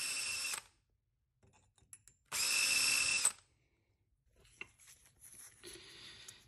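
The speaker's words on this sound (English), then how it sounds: "So this is a number 38 drill bit." Power drilling of homemade unicycle hub parts with a number 38 drill bit: three separate bursts of high whining drill noise, loud and close, with quiet gaps and light tool clatter between.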